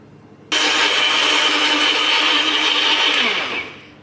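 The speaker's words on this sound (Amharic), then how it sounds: "እንቁላሉን በደንብ ከፈጨሁት በኋላ ይሄው ሱካሩን ጨመርኩ ማለት ነው። አሁንም እፈጫለሁ።" An electric hand mixer runs steadily, beating eggs and sugar into cake batter, a loud continuous whir that starts abruptly and holds for about three seconds before tapering off.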